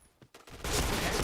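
Game gunfire from a machine-gun loadout: a couple of faint early pops, then a loud, dense burst of shooting fills the last half of the moment, close and sustained.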